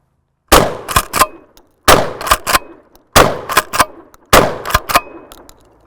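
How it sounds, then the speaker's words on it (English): Four loud shotgun blasts fired one by one outdoors, evenly spaced, each boom followed quickly by the metallic clack-clack of the action being cycled. No one speaks. "So upon shooting multiple rounds to the shotgun for the first time"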